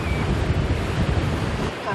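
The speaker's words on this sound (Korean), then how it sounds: "파도가 심상치 않습니다" Rough sea churns and surges steadily, with heavy wind buffeting the microphone throughout and a constant loud roar of water at close range.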